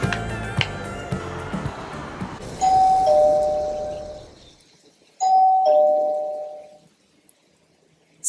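A home automation door sensor sets off a doorbell chime that rings twice, each a clear two-tone ding-dong that rings out and fades, following a stretch of noisy background sound.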